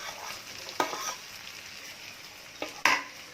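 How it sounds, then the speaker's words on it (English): Paneer pieces fry in a pan with a soft continuous sizzle, while a utensil stirs them in two or three sharp, brief scrapes and clacks against the pan, close up. "Let's mix slowly because the paneer pieces can break anytime."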